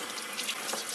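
Water runs from a tap onto an old leather motorcycle saddle bag, a steady close hiss and splash with small fluctuations and no voices.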